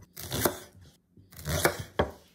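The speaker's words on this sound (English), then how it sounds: "First, cut the green onions. Cut it into 50 mm wide." A knife chops green onions for sukiyaki on a cutting board, in two short bursts of close, crisp cuts separated by a brief pause, with no voices.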